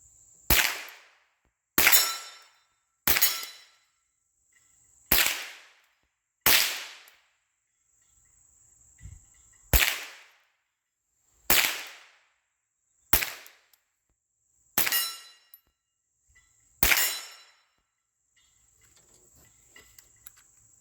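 Gunshots fired outdoors at a target, about a dozen sharp, loud cracks spaced irregularly a second or two apart, each decaying quickly, with a steady high insect-like trill in the background.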